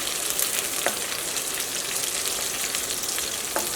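Food frying in hot oil for an egg curry, a loud, dense, continuous sizzle close by with a couple of brief clinks from stirring, no voices.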